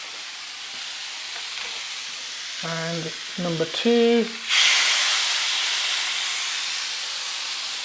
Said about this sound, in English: That's what you want to hear, that sizzling sound.